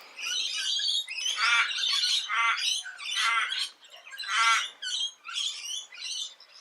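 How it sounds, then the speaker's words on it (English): Birds squawk in a dense, continuous flurry of harsh, raspy calls, close and loud, overlapping without pause for several seconds. "Birds are flapping around."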